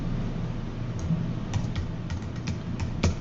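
Typing on a computer keyboard, a soft irregular patter of key clicks over a steady background hiss, with a few sharper taps spaced through the clip.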